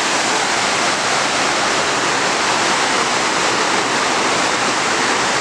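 Water rushes under a gothic mill, a loud, steady broadband roar with no variation and no voices.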